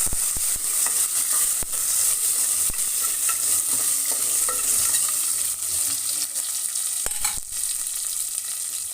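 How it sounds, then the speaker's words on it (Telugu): Onion and green chillies with curry leaves stirred in a hot pan for a moong dal rasam: loud continuous sizzling close up, punctuated by sharp spoon clicks and scrapes against the pan, with no speech. "చక్కగా కలుపుకోండి"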